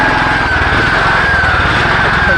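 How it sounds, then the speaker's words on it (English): A 6.3 kW open-frame generator runs steadily at close range, a loud, continuous rough engine drone with a thin high whine on top, with no voices. "So we're going to start the generator."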